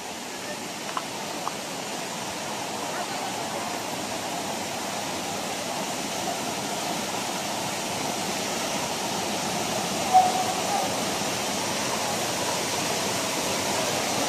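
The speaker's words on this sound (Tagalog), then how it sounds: "Kung nakikinig nyo na yung lagaslas ng tubig, malapit lang naman yung falls." Rushing water of Pinlac Falls in Infanta, Quezon, a steady broadband roar heard from nearby and continuing evenly throughout, with no talk over it.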